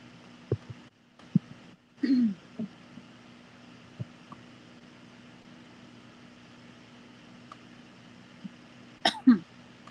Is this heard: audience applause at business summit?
no